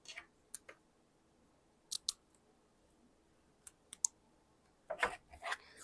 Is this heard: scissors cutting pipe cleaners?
yes